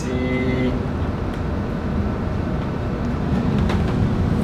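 Strong wind roars steadily at about 40 knots over open sea aboard a trawler cruising from the Bahamas to Puerto Rico in bad weather, a dense, loud rushing wash with low rumble and no speech.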